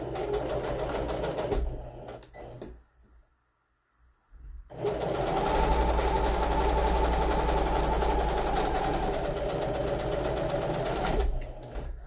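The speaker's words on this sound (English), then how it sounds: "We start by doing a flat seam." A sewing machine stitching a flat seam hums steadily and loudly up close, stops for a short silent pause, then resumes a long continuous run before cutting off near the end.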